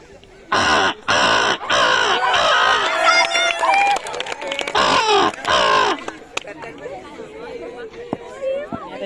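A performer's voice mimics a crow's caw in a run of loud, harsh, repeated calls, short bursts at first and then a dense chattering stretch, with a lone bird call and some low chatter sounding near the end.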